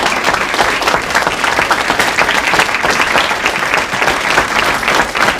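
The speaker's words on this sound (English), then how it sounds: "I want to give a huge round of applause to our esteemed panel." An evening community audience gives a panel a big round of applause, a dense, loud wash of many people clapping that holds steady throughout.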